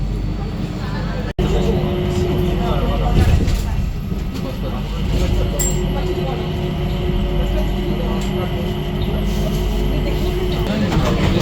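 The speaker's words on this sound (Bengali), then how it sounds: "হচ্ছে sky train, totally free of cost." The free Skytrain at Singapore Changi Airport runs steadily between terminals, a continuous rolling rumble and hum inside the car with a brief click near the start and faint background sounds.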